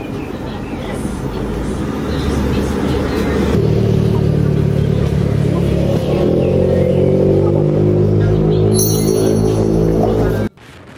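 A motorcycle engine running loud and close on an adventure ride around Tanay, Rizal, droning steadily, rising in pitch as it revs and accelerates, then cutting off abruptly near the end.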